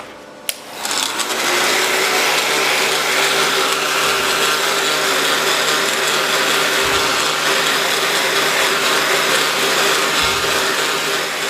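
An industrial-grade heat gun blows hot air during the installation of a decal on a 2013 Honda CRF 450 side plate, a loud, steady whirring roar that starts abruptly and runs on unbroken, close by.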